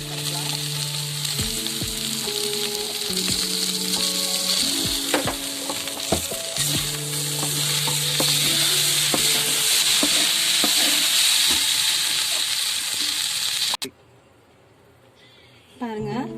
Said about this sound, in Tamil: ரைஸ் கொஞ்சம் கொஞ்சமாக போட்டு ரைஸ் மிக்ஸ் பண்ணிக்கலாம்.